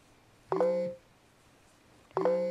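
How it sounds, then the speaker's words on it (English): A mobile phone goes off during a crochet session, giving two short, fairly loud electronic tone bursts about a second and a half apart over a quiet background. "Sorry, you guys, my phone going off."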